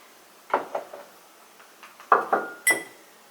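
Small clinks of a utensil against a little dish as wasabi is stirred into a paste, coming in two short clusters of light taps close by.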